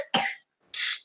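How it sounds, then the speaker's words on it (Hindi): A child coughs twice, two short harsh bursts close by separated by a brief pause, with no talking. "इसको देखो खांसी, जगह बदलते ही बच्चों को खांसी शुरू"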